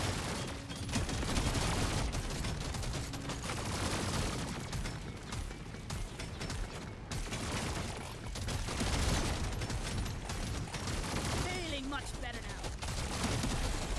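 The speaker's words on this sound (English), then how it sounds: "Look at all these plasma shots everywhere." Rapid plasma carbine fire in Deep Rock Galactic, a fully overclocked weapon in a Hazard 4 mission, crackles in dense continuous bursts alongside game combat noise, with a voice talking over it.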